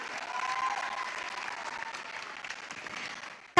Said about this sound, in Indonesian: saya pingin kita tepuk tangan dulu untuk semua yang hadir di sini